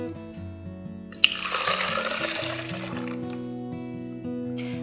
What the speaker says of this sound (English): Then pour it into a jug.